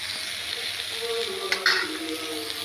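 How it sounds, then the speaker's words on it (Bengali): Pointed gourd sizzling steadily in a hot pan while being stirred, with a sharper burst of crackling and scraping partway through; a faint voice sits far under the frying. "পটলটা ভাজা হয়ে এসছে, নাড়াবো পটলটা"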